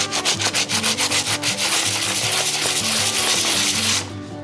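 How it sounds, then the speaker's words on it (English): Sandpaper rubbing over an old spray-painted tea light, a rhythmic series of close scratchy strokes for about four seconds, then stopping abruptly with only faint room noise left. "you have some sandpaper and then you start sanding it"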